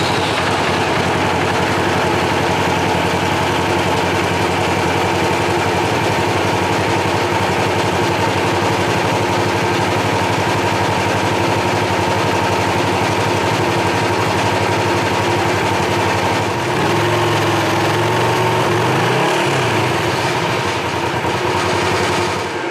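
A Polaris XP 4 1000 side-by-side with a failing drivetrain runs steadily nearby, its engine a continuous rough idle with a rapid ticking rattle, dipping briefly toward the end.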